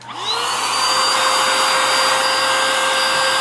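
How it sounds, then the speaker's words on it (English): A vacuum cleaner runs loudly and steadily, cleaning a damaged Lego building; it spins up with a rising whine, holds a constant roar, then cuts off abruptly, with no talking. "I think our best bet is just to start out with a quick vacuum"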